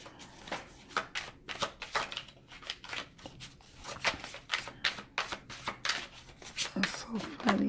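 Tarot cards being shuffled by hand, a rapid series of crisp riffling and slapping bursts repeating throughout, close and fairly loud, with a voice speaking intermittently.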